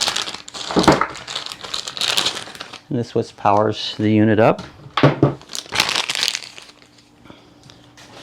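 Plastic crinkling and rustling close by as packaging is handled, mixed with someone talking.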